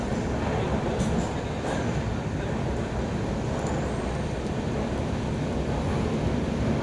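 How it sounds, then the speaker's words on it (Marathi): Continuous loud rumble and rattle inside a moving Konkan Railway passenger train between Chiplun and Kolad in the monsoon season, a dense steady roar with faint clicks and no clear speech. "मग आम्ही ट्रेनने प्रवास करतो आता"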